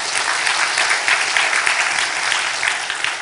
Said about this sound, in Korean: 박수 한번 하셔요.